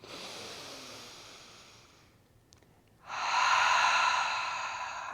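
A yoga instructor draws one long audible breath in, close to the microphone: a soft airy inhale, then a short pause, then a louder sustained breathy rush.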